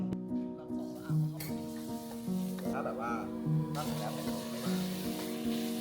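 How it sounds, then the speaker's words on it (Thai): Minced pork sizzles and fries in a little oil in a pan, with a steady close crackle under background music and some voice-like sound. "ผมจะเอาหมูสับเนี่ยใส่น้ำมันไปหน่อยเอาหมูสับลงไปรวน"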